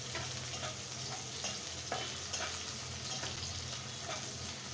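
Chopped onion frying in a pan with oil for noodles, a faint steady sizzle with soft stirring taps, quiet and without voices.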